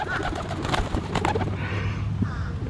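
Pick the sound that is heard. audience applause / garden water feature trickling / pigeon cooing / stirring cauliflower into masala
pigeon cooing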